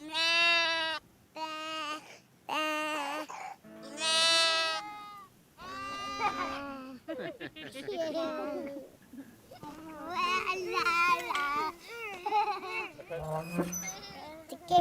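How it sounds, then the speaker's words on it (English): Lambs on a farm bleat in four loud, wavering calls one after another, followed by children's voices talking and chattering. "The lambs make this sound."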